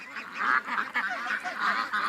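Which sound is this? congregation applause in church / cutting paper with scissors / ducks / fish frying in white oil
ducks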